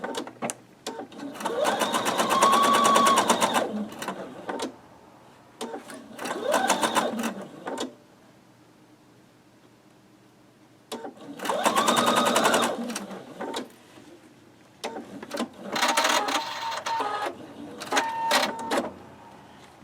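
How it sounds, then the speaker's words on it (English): A sewing machine stitches a quilt block from the center outward, running in several loud close bursts of rapid needle hammering separated by short pauses, with back stitches at the ends of the seam. "I'm going to go ahead and put in some back stitches."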